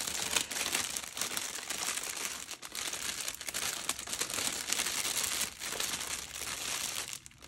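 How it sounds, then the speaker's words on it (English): Cellophane wrap crinkles and rustles continuously while being folded and sealed around a paper birthday treat box, a close, busy crackling texture lasting throughout with brief dips. "I'm gonna take my cellophane and just kind of seal it up here like this. So you probably hear a lot of the crinkling."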